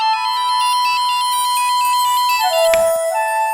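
A phone ringtone plays loud and close, a repeating electronic melody of chirping tones that runs steadily before it breaks off, with no talking.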